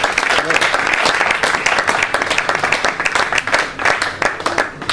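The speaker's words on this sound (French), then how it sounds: "Acclamons fortement pour le Seigneur." A church congregation at a service breaks into loud, sustained applause with scattered cheers, a dense wash of clapping that carries on without pause from start to finish.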